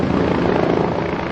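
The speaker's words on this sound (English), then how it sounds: "Some of them are helicopters." A helicopter roars steadily and loudly, close by with a dense broadband engine and rotor drone, near a station where security and practice flights are common.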